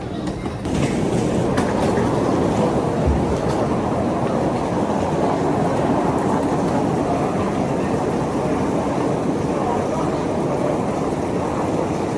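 A train carrying Newcastle United fans rumbles steadily along the rails, a loud continuous roar with faint clattering throughout, heard from on board.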